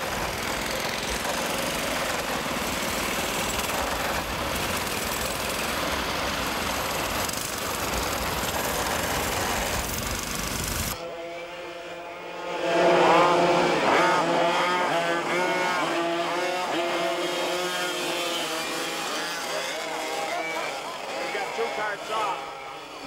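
Four-stroke racing karts on a track, a dense engine roar at first, then cutting to a single buzzing engine revving and shifting pitch up close, with voices faintly underneath.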